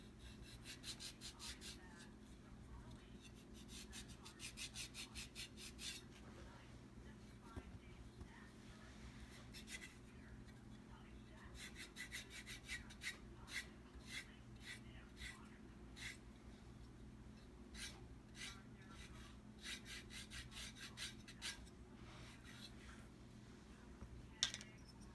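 A buffing block rubs over toenails during a pedicure in repeated short scraping strokes, close and quiet, coming in bursts separated by pauses over a low steady background hum.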